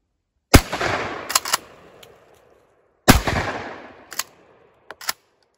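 Two loud, close 20 gauge shotgun blasts firing buckshot and shot loads at a range, each a sharp boom with a rolling echo, followed by clicks and clacks of the action being worked.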